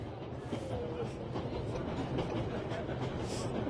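A train carrying people across Germany rolls on with a steady, continuous rumble and rattle of wagons on the rails, heard close and unbroken throughout.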